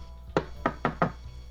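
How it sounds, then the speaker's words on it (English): Four knocks on a door, one sharp rap followed by a quick group of three, close and distinct over a low steady hum. "you hear a knock at the door"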